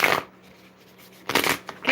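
A tarot card deck is being shuffled by hand. Two close, crisp riffling bursts come at the start and end, with a quiet pause between them, and nobody talks.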